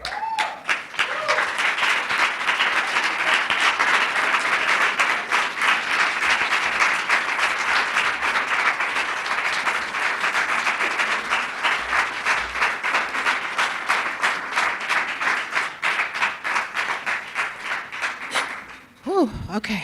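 Sustained, loud applause from an audience at a ribbon cutting ceremony, dense clapping from many people lasting the whole stretch before tapering off at the very end.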